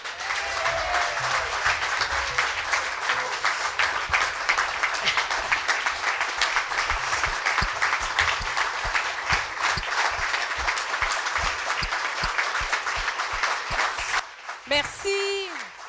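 Sustained applause from the audience at the 2017-18 Patriote de l'année award ceremony, a dense, even wash of many hands clapping for about fourteen seconds before it fades.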